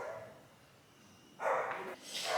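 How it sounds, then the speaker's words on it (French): A Bernese Mountain Dog puppy gives two short barks in quick succession, fairly faint and somewhat distant, after a moment of quiet background hum. "Il aboie contre la voisine, je sais pas si on entend."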